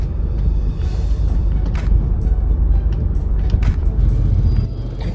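Heavy afternoon traffic on a narrow road, with a steady close rumble of car and larger vehicle engines and a few brief brake or hiss sounds on top, with no speech.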